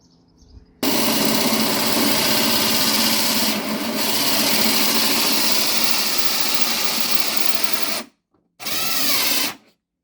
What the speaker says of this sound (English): Might need a power drill, not a cheap battery drill.